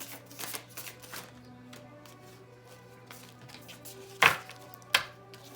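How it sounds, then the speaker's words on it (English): Tarot cards being shuffled, giving faint papery riffling through much of the clip over a low steady hum, then two short sharp card snaps or taps near the end. "Feeling called to get a reshuffle."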